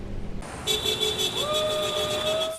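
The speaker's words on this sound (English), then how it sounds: "Flags waving, cars honking." A car horn blares steadily in West Palm Beach, joined by a second horn tone partway through, over the hum of traffic nearby.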